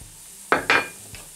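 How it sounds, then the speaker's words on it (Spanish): Paprika being stirred vigorously into a pan of rice with salt cod and potatoes: a few quick, close spoon scrapes and clinks against the pan, separated by quiet moments. "Movemos enérgicamente hasta que el pimentón esté un poquito, que no se queme, que amarga."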